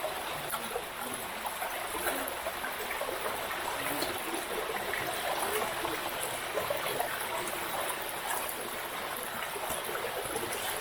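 Fresh water flowing steadily in a village stream in Kenya, a continuous close trickling and babbling that fills the whole stretch with no voices.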